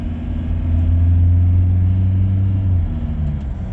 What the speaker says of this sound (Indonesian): Nah, ini coba saya akselerasi ya